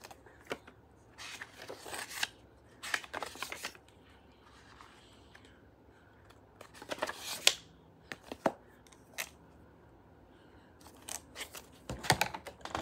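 A Blue's Clues Snotebook with a blue spiral being handled, its pages flipped, rustled and tapped in short bursts separated by quiet pauses, close and fairly soft.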